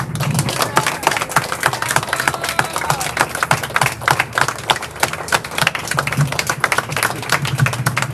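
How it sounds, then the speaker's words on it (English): An audience at an outdoor press event by a mural in Georgetown gives a warm round of applause, with dense, steady clapping from many hands going on throughout. "let's all give each other a warm bit of applause."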